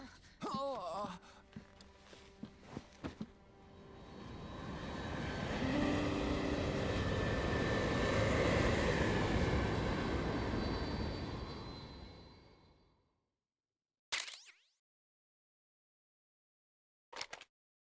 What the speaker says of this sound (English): everybody having to listen to the squeaky squeak of the helicopter